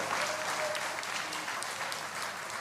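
A crowd at a Hindu religious gathering claps steadily and densely, a continuous wash of applause held at a fairly even level with no talk on top.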